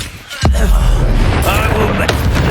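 A spell cast in Hogwarts Legacy lands as a sudden loud magical burst followed by a dense, roaring whoosh that sustains for about two seconds, with a few sharp crackling accents over the swell.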